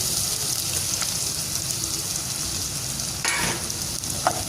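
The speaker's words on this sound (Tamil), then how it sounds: "இப்போ வெங்காயம் வதங்குது." Onions sizzling steadily in a hot pan while cooking egg rolls in a Jaffna-style home kitchen, a continuous bright frying hiss with a couple of brief stirring scrapes near the end.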